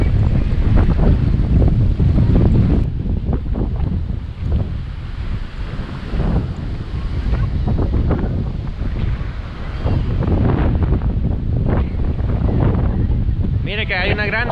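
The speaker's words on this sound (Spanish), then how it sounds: "se están haciendo unas pero fuertes ráfagas de viento" Strong wind gusts roar across the microphone beside the Río Lempa in Chalatenango, El Salvador, a loud, continuous buffeting rush that swells and dips for the whole stretch.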